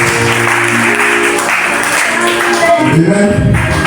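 A church congregation at a night vigil applauds and cheers in acclamation of Jesus, a loud, dense wash of clapping and voices that holds steady throughout.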